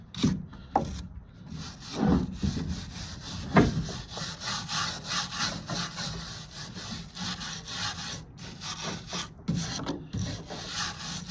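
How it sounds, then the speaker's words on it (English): A small steel brush scrubs across driftwood in quick repeated back-and-forth strokes, a close, raspy scratching that continues steadily throughout. "Go back with just a little steel brush, and it just comes right off."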